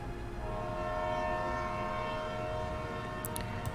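A train in the indie game Midnight on the Milky Way slows down, giving a steady, continuous rumble of rolling cars with sustained tonal ringing over it.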